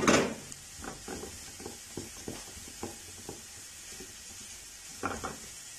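Chopped vegetables and finely cut green chillies sizzle in a frying pan, with a quiet steady hiss broken by a regular series of scraping stirs from a spatula and a louder clatter at the start.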